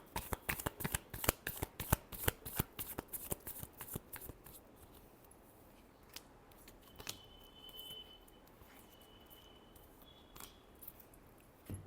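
Tarot cards are riffled and shuffled in quick, crisp bursts up close for about four seconds, followed by quieter handling and a few soft taps.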